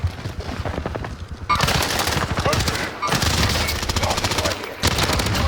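Rapid submachine gun fire from an OTs 9 SMG in a Call of Duty game, loud dense automatic bursts with brief pauses between them, close and dominant, with voices talking under the shooting.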